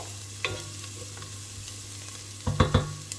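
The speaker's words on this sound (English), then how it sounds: "you can smell the lovely spices just as they're frying" Spices stir-frying in a pan, a steady low sizzle with a few sharp clatters of stirring, loudest near the end.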